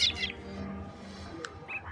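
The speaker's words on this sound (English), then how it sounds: "The drongo sounds the alarm." A drongo gives its alarm call in the African savanna, a few sharp high chirps and harsh calls within two seconds over low background rumble, fairly faint and without talk.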